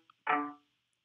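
Strings voice in Chrome Music Lab Song Maker plays a single sustained, harmonically rich note with a soft swelling onset lasting about a third of a second, preceded by a faint tick, heard alone.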